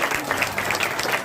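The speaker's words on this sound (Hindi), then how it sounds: "जोरदार तालियां संपूर्ण परिवार के लिए।" Applause for a whole family at a retirement ceremony, a dense steady patter of clapping hands from an indoor audience throughout the brief moment.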